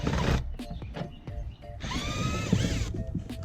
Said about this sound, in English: mine takes screws, so I'm just gonna unscrew these